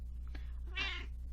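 A cat sitting on someone's lap lets out a short, soft meow close by, preceded by a faint brief chirp, over a steady low background hum in a quiet room.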